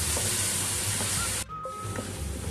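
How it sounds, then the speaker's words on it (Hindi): Ginger-garlic frying in a pan sizzles loudly and steadily for over a second, then drops to a softer hiss with faint crackles, close and with no voices. "अब इसके साथ हम इसको 3-4 मिनट भून लेंगे।"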